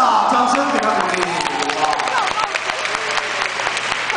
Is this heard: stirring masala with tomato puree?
no